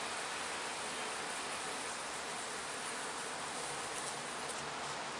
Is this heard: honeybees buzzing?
yes